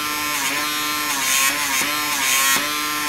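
A PMD microdermabrasion machine running, a steady electric buzz with a few short dips and pulses as it moves across skin, no speech.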